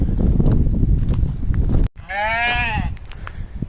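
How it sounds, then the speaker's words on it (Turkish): Sheep bleat loudly in a pen amid thick rustling and bustle as they are let out, with one long quavering bleat standing out close by. "Koyunlarımızı salıyoruz."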